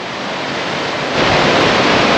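The West Lyn river at Lynmouth in North Devon rushes in a loud, steady broadband roar, close to the microphone, growing slightly louder partway through.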